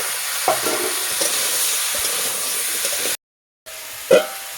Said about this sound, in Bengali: কাঁচা লঙ্কা বাটাটা দিয়ে এবার আমি এই কুমড়োটার আলুটা একটু ভেজে দেবো।